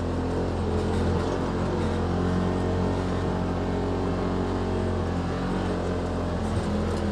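A 2018 Polaris RZR XP Turbo climbs uphill through patchy snow an inch to several inches deep, its engine a steady, close droning roar that holds continuously without pause.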